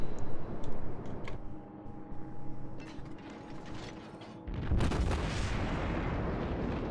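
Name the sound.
naval gunfire from cruiser Admiral Hipper, video game World of Warships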